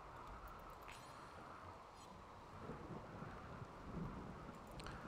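Steady rain hiss with low rumbling thunder swelling near the end, ambient weather in the colony-building game RimWorld, continuous and moderately loud with no talk over it.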